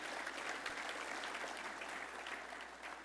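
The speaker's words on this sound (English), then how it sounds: "Let's give another round of applause to Kendall and Deck My Room." Distant, faint applause from an event audience at a real estate trends gathering, a steady wash of many hands clapping with little else heard.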